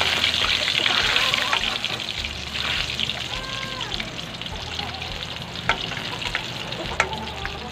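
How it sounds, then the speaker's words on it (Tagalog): Hot water poured into sautéed mung beans (ginisang monggo) in a pan: a loud continuous sizzle and bubbling hiss with trickling liquid, a few clinks of a utensil, and a faint voice in the background. "Buhusan lang natin ng mainit."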